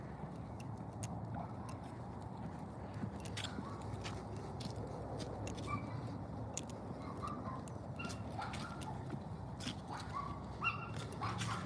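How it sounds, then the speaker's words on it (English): Small dogs barking in the distance outdoors on a suburban sidewalk in the morning, intermittent sharp yips over steady ambient street noise, no talking. "Can you hear those little dogs barking?"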